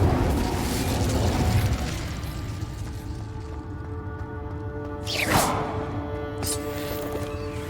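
Hogwarts Legacy Incendio fire spell: a rumbling burst of flame and magical effects with a sharp whooshing crackle, moderately loud amid game ambience, no talking.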